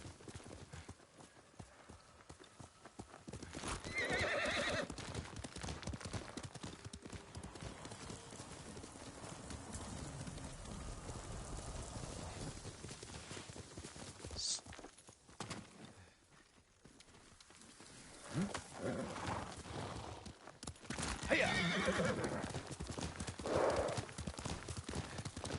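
Horse galloping in Ghost of Tsushima, a steady rapid clip-clop of hooves running for a long stretch with whinnies and a swell of game music and wind, near and loud.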